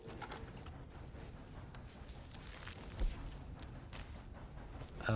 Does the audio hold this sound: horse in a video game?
yes